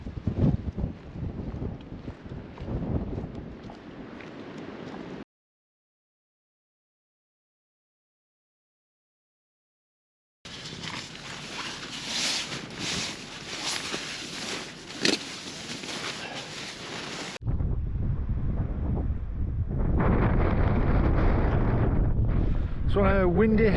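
Strong wind buffeting the microphone on an exposed headland at Point of Stoer in Assynt, Scotland, roaring in gusts that cut out for a few seconds, then return louder and steadier.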